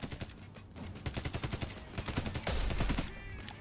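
Gunfire in the shooter game Payday 3: a rapid string of sharp, evenly spaced shots followed by a louder burst, fairly quiet in the mix.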